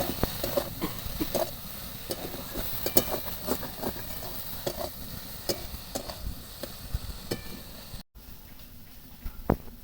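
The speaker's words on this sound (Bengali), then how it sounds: "এইভাবে মশলার সঙ্গে ফুলকপিটা আরো কিছুক্ষণ আমি ভেজে নেব।" Spatula scrapes and taps against a pan over a steady frying hiss of cauliflower with spices, with irregular clinks throughout and a brief cut near the end.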